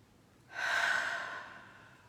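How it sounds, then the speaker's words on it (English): One audible breath drawn in, a soft airy rush that swells and then slowly fades, heard alone and fairly close. "Take a breath."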